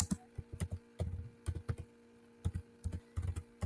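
Someone types Python code for a contact book project on a computer keyboard, with close, clicky keystrokes in quick irregular bursts and short pauses, with no talk.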